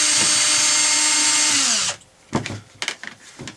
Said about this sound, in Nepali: त्यो कारणले मैले ड्रिलले खोलेको।